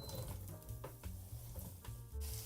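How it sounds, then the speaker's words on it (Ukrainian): Onion frying in oil in a hot pan, sizzling with low clattering and stirring noises, close and fairly quiet. "На сковорідку вливаємо олію, викладаємо цибульку"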